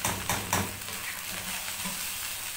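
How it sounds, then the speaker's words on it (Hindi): Cooked rice being stirred in a frying pan with vegetables, a few scraping strokes at the start, then a steady soft sizzle. "अब इसको हिला लेंगे।"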